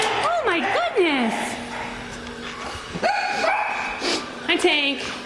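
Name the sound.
dog barking at an animal shelter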